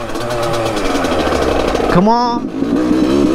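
A Yamaha YZ85 two-stroke dirt bike engine buzzes loud and close with a high, raspy drone that dips briefly and picks back up, while a rider speaks over it.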